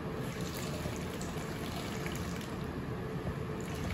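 Water is poured onto a normal cloth during a car-cleaning chamois comparison, producing a steady, moderately soft splashing and trickling hiss that runs continuously.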